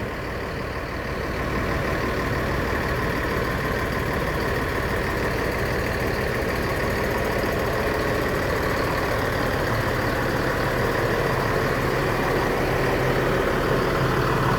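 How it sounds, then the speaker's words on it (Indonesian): A rear-mounted engine in an Adi Prima Jetbus 3 bus idles steadily at close range, a continuous low diesel rumble with no talk over it. "Mesin belakang."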